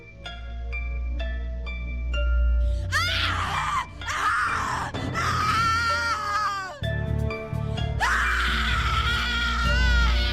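Anguished screaming in The Cat Lady video game, a series of drawn-out, wavering cries and groans rising and falling over a dark musical drone, loud and close.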